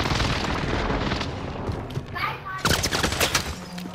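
Heavy gunfire fills a Call of Duty match on Fortune's Keep: dense, continuous bursts of shots up close, with sharper cracks near the end.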